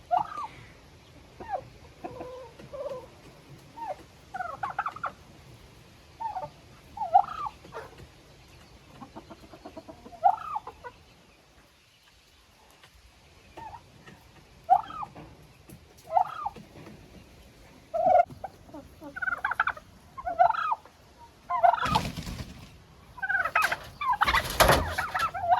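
A turkey in a chicken coop gives repeated gobbling calls in short bursts, fairly close, with clucking fowl and a few louder rustling noises near the end.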